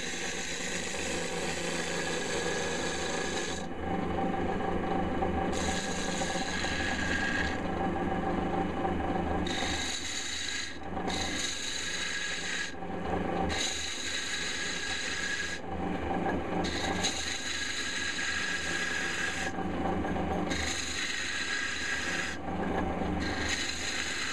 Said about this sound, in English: I'm just going to stop the lathe there